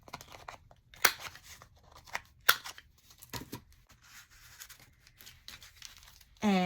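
Scissors cut paper and round its corners for a Valentine's candy box junk journal, giving several short, crisp snips and rustles spaced irregularly at close range, with a brief louder noise right at the end.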